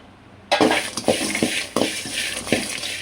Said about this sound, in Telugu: గ్యాస్ మీద కడాయి పెట్టుకొని ఇప్పుడు చెప్పిన ఇంగ్రీడియంట్స్ అన్నీ వేసి వేయించాలి.